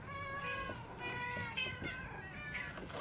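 A cat meows repeatedly in a TV show scene, with drawn-out harmonic cries filling the whole stretch and faint voices talking underneath.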